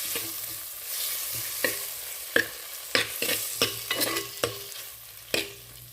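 Tomatoes and onions fry in a clay pot while a spoon stirs them, giving a run of distinct scraping knocks at an uneven rhythm over a soft, steady sizzle.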